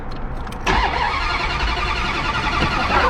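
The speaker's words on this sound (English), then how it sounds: "let me fire it up so you guys can" A 1971 Plymouth Duster with a 360 V8 cranks briefly, then catches and fires into a loud, rumbling idle right up close, holding steady with slight revving and no talking.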